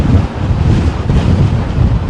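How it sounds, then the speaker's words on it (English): Strong gusting storm wind roars continuously and loudly across the microphone, a dense buffeting rush at an airport in England as planes attempt to land. "Winds are gusting."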